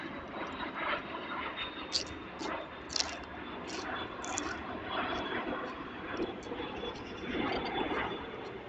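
A fixed-wing airplane passes over a home near an airport, a broad steady roar at moderate distance filling the whole stretch, with brief higher chirps and faint background voices mixed in.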